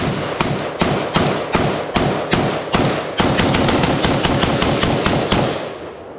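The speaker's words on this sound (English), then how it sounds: "very first shots out of the M90" Shots from an M90 AK-pattern rifle chambered in 5.56/.223 crack loud and close: a string of evenly spaced single shots, then a faster run of rounds. No one speaks.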